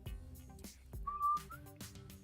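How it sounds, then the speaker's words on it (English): A person whistles a brief, thin note that slides slightly upward, quiet and close, surrounded by breathy sounds and faint background tones. "I can never whistle if I'm laughing or smiling inside."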